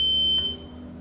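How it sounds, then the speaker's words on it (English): An electronic voting machine control unit gives one short, clear, high-pitched beep, which cuts off within half a second and leaves a low background hum. "You will see set candidate flashing with a beep sound."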